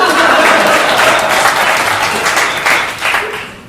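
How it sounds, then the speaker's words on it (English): Audience at a comedy show bursts into loud, sustained clapping that fills the room, tapering slightly toward the end with no voice over it. "Please clap."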